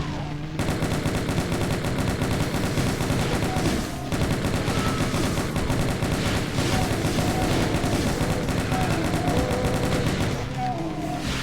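Rapid gunfire from the shooter video game Doom 2: TNT Evilution as the player mows down imps, a dense, continuous barrage of shots and game effects running loud and unbroken for nearly the whole stretch.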